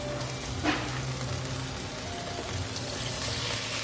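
Pork ribs hit a hot sauté of aromatics for Filipino sinigang, giving a steady close sizzle and frying hiss with faint stirring and no talk.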